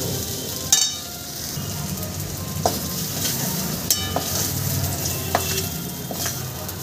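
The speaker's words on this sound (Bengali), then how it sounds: "আলুটা আমি সুন্দর করে দেখো ভেজে নিচ্ছি।" Potatoes frying in oil in a wok, a steady close sizzle broken by a few sharp clinks and scrapes of a spatula stirring.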